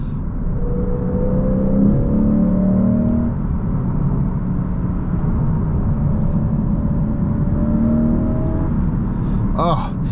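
A 2024 Lexus IS500 F Sport's V8 pulls hard on the road, a close, steady engine drone and tyre rumble with rising tones as it accelerates, while someone talks over it.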